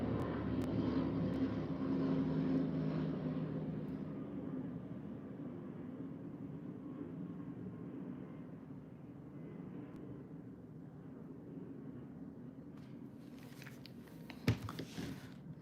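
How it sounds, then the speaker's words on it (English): Helicopters pass overhead in Chicago, a steady broad mechanical drone that fades gradually, with a sharp clatter near the end. "These big damn helicopters."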